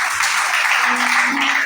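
Church congregation applauding during a worship service, a steady dense wash of clapping from many hands without pause, moderately loud and filling the room.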